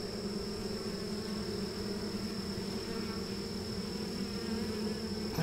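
Honey bees hum around an opened horizontal hive on a farm, a steady, close drone with a faint high tone held throughout and no talking.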